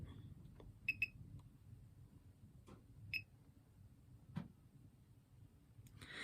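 A hair-care device gives a few sharp, high electronic beeps, a quick pair followed by a single one, over a quiet low hum.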